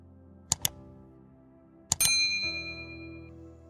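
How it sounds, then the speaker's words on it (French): Two pairs of bright, quick notification dings ring out, the last pair followed by a ringing metallic tone that slowly decays in a quiet setting. "activer la cloche de notification pour ne manquer aucune de nos vidéos"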